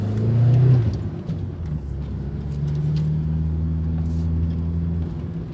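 A 1995 Fiat Tipo 1.6 i.e. engine revs hard while driving, a loud low drone that peaks early, dips, then holds a steady strained hum as the car keeps pulling.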